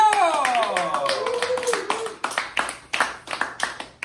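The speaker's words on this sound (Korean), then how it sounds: "박수 주세요." Audience clapping welcoming a guest at a talk concert, starting under a voice and then continuing as a series of distinct sharp claps that come in small bursts.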